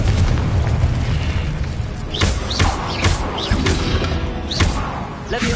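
Repeated Confringo fire-spell explosions in a wizard video game, several booming bursts with whooshing tails spaced about half a second to a second apart over a steady low rumble of game ambience.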